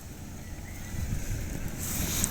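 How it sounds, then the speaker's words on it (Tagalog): Strong wind rushing and buffeting against the microphone, a continuous low roar that grows a little stronger toward the end. "lakas ng hangin ito"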